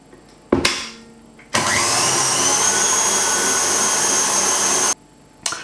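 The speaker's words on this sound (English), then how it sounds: "So I'll just add the sugar and whisk it a bit more until that's mixed in." An electric mixer whisks cream with sugar, switching on with a jolt, whirring loudly and steadily for a few seconds, then stopping, with brief bumps before and after.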